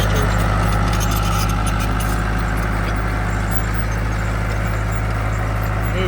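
A small tractor moving dirt runs with a loud, steady low engine drone and constant mechanical rattle, close and continuous throughout.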